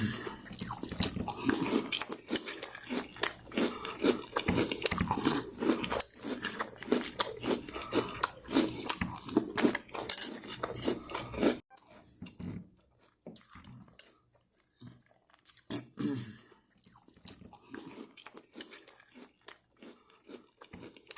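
Wednesday-themed cereal eaten with milk: close, steady crunching and chewing bites for about eleven seconds, then quieter, sparser chewing with wet mouth sounds, no talking.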